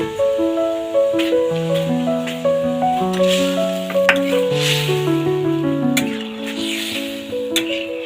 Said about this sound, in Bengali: এবার আমি ডালটা সম্বার দিয়ে দেব।